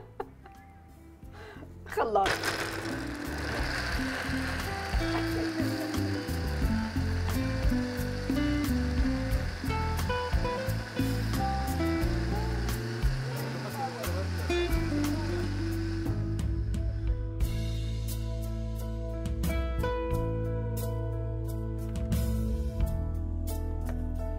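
A kitchen blender whirs loudly on a cooking show making fried halloumi salad, running for about fifteen seconds before cutting out, with people talking and laughing over it.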